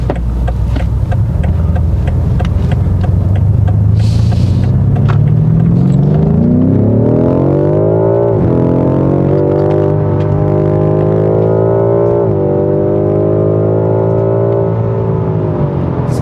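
BMW M5 Competition engine while driving, a loud deep rumble that climbs steadily in pitch as the car accelerates, with brief dips at gear shifts before the revs rise again.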